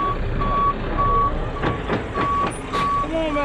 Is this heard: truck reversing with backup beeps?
yes